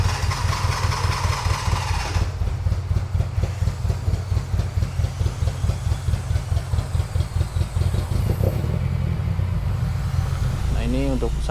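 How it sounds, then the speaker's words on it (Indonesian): Car engine idling steadily at normal RPM, a low, even rumble with a regular pulse throughout and someone talking over it. "Jadi nggak perlu digas atau nggak perlu diinjek gas, dia tetap nyala mesinnya."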